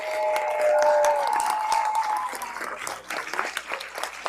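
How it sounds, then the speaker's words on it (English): An audience gives a round of applause for the women on stage at a Q&A panel, loud sustained clapping that swells early and then thins into scattered claps toward the end. "let's give a major round of applause to the women up here"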